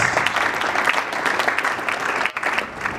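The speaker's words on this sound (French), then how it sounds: "nous allons vous demander de regagner votre place sous les acclamations de l'assistance" Applause from the audience at a church book launch fills the room as a steady, dense wash of clapping.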